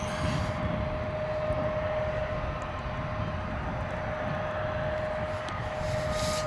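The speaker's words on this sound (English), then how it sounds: "we've got a 777 taking off on this side of the airport, or landing on this side of the airport." A Boeing 777 taking off or landing at DFW airport gives a steady, loud jet engine roar with a continuous whine, filling the whole span without a break.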